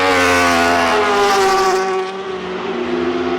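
MotoAmerica race motorcycles scream past at speed, with a loud, high-revving engine note whose pitch drops as the bikes pass close by before fading slightly.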